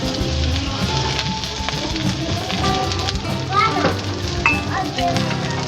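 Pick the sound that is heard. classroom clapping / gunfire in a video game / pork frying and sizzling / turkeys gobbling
pork frying and sizzling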